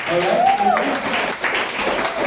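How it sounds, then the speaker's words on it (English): Audience applause at a presentation skills session for leaders, a moderate wash of clapping with voices and a whoop mixed in. "let's give Joe a big hand of applause"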